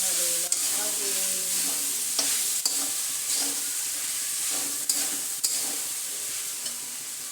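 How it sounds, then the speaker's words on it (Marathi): Sabudana tapioca pearls sizzle steadily in a hot pan for fasting khichdi, with a spatula scraping and stirring in occasional sharp strokes over a constant frying hiss. "तर आता टाकणार आहे मी साबुदाणा."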